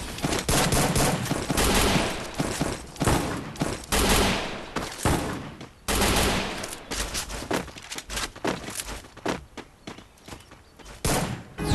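Gunfire in the mobile battle game Free Fire: loud bursts of rapid automatic shots in repeated volleys, with brief pauses and thuds between them, filling the whole stretch.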